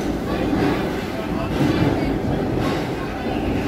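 London Underground train running between stations, a loud, continuous rumbling roar with wheel and track noise that stays steady throughout.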